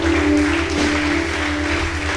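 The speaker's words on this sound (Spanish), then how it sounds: "Bríndale un aplauso al Todopoderoso." A church congregation applauds in praise to God, a continuous even wash of many hands clapping at steady loudness, with a sustained tone underneath throughout.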